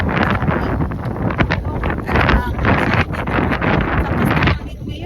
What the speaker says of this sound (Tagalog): Sobrang hangin, grabe.